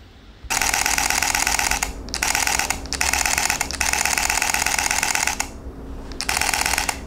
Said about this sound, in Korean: 좋은 건 한 번 더, 연속 촬영의 소리는 어떨까요?